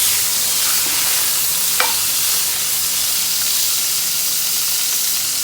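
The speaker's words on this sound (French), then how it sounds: "Dans l'huile de coco, mon hôtesse est en train de mettre le poisson." Fish fries in hot coconut oil for a Sri Lankan fish curry, giving a loud, steady, close hiss and sizzle with a faint clack partway through. No one speaks.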